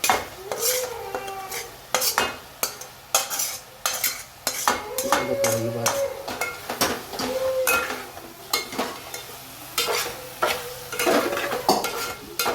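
Okra is tipped into a pan and stirred, with repeated loud metallic clanks and scrapes of a spoon against the pan in an uneven rhythm over a low, steady sizzle, and no talking.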